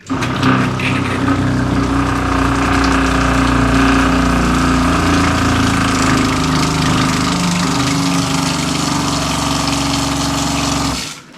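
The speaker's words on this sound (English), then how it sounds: "the pump is vibrating and running" Electric water pump in a 2005 Ford E250 van feeding the sink faucet, a loud, steady vibrating hum with running water that holds for about eleven seconds before cutting off.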